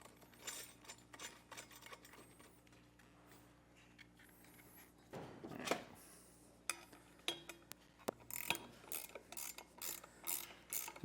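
A socket ratchet tightens bolts on rear air helper springs during a vehicle install, giving repeated quiet clicking ratchet strokes in irregular bursts, close by but faint, without speech.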